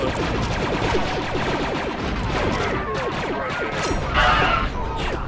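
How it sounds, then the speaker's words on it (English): A bucket blows up during a Star Wars Republic Commando–style battle in a hangar, one burst among a dense, continuous clatter of blaster fire, crashes and debris, loud and busy throughout with no clear voices on top. "Oh, come on, the bucket blew up."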